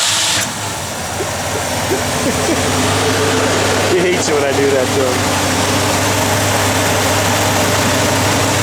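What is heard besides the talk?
1950 Ford F1 truck engine starting and running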